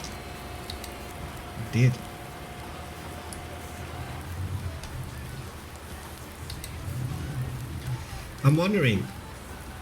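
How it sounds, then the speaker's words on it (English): Soft steady rain patters in the background of Farming Simulator 19 while someone talks briefly over it at two points, the rain staying constant and fairly quiet beneath his voice. "especially with the rain sound in the background as well"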